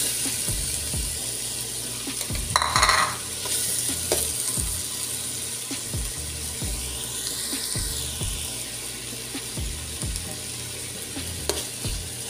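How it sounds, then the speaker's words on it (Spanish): Tomato being stirred into garlic and onion frying in a pan for a pasta dish, a steady close sizzle under repeated scraping stirs and utensil knocks, with no talking. "para que no se nos vaya a quemar el ajo ni la cebolla inmediatamente vamos a agregar el jitomate"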